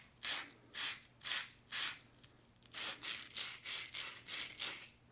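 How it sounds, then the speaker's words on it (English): A brass valve stem rubbed with a small piece of emery cloth: about a dozen quick, close back-and-forth scraping strokes in an even rhythm, with a short pause midway and no talking. "A little piece of emery cloth."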